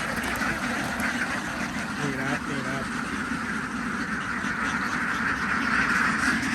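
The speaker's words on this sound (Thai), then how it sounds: "นี้เรามาเช็คเป็ดนะครับ" Young laying ducks quack at a duck farm during egg collection, a few short quacks heard beneath someone speaking close by over steady farmyard noise.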